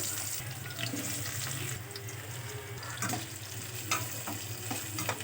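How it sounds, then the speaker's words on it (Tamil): Onions sautéing in oil with mustard seeds, fenugreek, fennel, cumin and curry leaves for a chana kuzhambu, a steady close sizzle with occasional light stirring clicks and no talk. "வெங்காயம் நல்லா வதங்கட்டும்"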